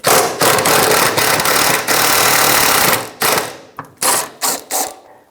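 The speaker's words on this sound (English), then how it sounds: "We have 2 mounting bolts right here, and that's a 14mm socket. I'm just going to spin them right out." A ratchet with a 14mm socket spins out the carrier bearing mounting bolts on the center driveshaft of a 2013-2018 Toyota RAV4 2.5L. A rapid, loud whirring clatter runs continuously for about three seconds, then breaks into several short bursts.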